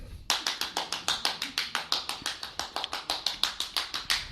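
An audience at a poetry reading clapping, with crisp claps following each other in a fast, even rhythm after a brief quiet moment, close and clear with no talking.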